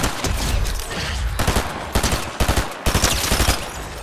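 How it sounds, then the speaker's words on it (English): Loud, close bursts of automatic gunfire in Fortnite Chapter 5 Season 2 Zero Build, dense rapid volleys broken by short pauses and sharper single shots toward the end. "Who is shooting at you guys?"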